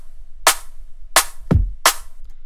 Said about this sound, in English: I layered 3 snares together actually.